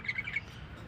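A pet bird gives a quick run of three or four bright, close chirps in the first half-second, then falls quiet over faint room noise.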